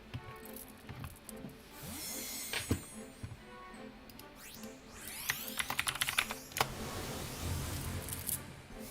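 Quiet computer keyboard typing with irregular clicky keystrokes and small rattles, bursts of quicker pressing toward the end, alone without talk.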